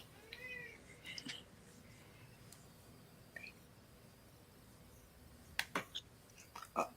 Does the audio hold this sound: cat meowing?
yes